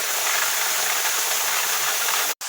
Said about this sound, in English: this is letting out the steam at the moment